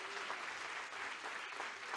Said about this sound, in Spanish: Un aplauso, por favor, para todas las cooperativas que han colaborado en este receso